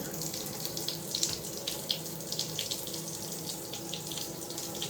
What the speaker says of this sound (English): I usually just turn the water on for a few minutes and let it like run.